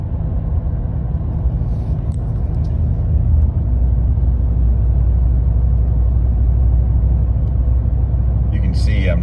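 Ram 1500 truck with a 5.7 Hemi V8 and Flowmaster Super 44 exhaust, heard from inside the cabin: a steady low rumble cruising just below 1500 RPM without drone, continuous and moderately loud throughout.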